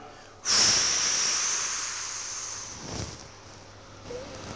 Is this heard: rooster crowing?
no